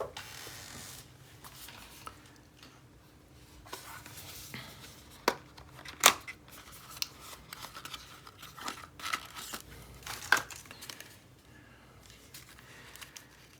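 Watercolour half pans being unwrapped from their packaging, with close, quiet crinkles, tears and snips scattered across the stretch and a few sharper rustles standing out; no talking.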